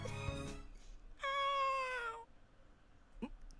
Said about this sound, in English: God damn it, cat!